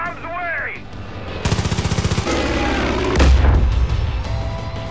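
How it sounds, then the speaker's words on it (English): A machine gun in Far Cry 5 fires a loud, rapid burst of evenly spaced shots, followed by heavier booming blasts and continued gunfire. A voice shouts briefly at the start. "Yes, Jessie, go for the machine gun!"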